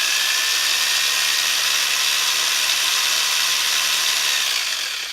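A power drill runs steadily for several seconds, a loud continuous high whine with a rough grinding edge while boring, close to the listener and trailing off slightly at the end.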